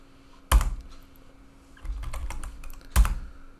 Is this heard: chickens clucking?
no